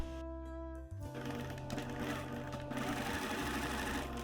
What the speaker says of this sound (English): Tuck and sew that short raw edge of the bias tape that sits on top.